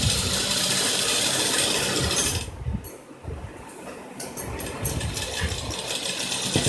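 Sewing machine stitching palazzo pant fabric, a steady mechanical whir that drops off briefly midway and then resumes at a close, loud level.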